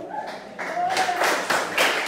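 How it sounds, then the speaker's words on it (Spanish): A crowd applauds a newly crowned queen at a flower fair coronation in Sabanetas, Olanchito, with scattered claps building into steady, fairly close applause under a faint voice. "responde con un caluroso aplauso"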